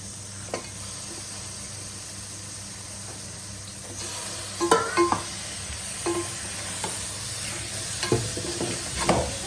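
Mutton head curry frying and being stirred in a pan, a steady low hiss with scattered scraping and clinking from the spoon, moderately close and growing busier midway.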